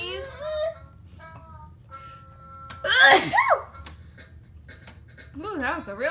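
A young child sneezes once, loud and close, a short burst amid household clatter, with adults and kids talking before and after.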